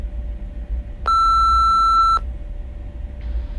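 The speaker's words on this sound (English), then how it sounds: "Please leave a message after the beep" Single clear voicemail beep in the video game Silver Creek Falls, a steady electronic tone of about one second that stands out over a low background hum.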